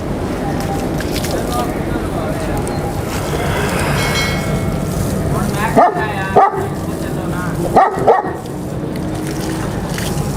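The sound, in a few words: bully dog barking while being bathed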